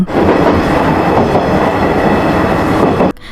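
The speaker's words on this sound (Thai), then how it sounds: "เสียงล้อรถไฟบดราง" Loud, steady rumble and rattle of train wheels grinding along the rails, continuous and close, cutting off abruptly at the end.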